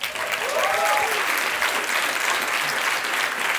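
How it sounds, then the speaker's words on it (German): An audience at a stage show claps in a steady, dense wash of applause that holds at an even, fairly loud level. A brief vocal sound rises near the start. "Applaus"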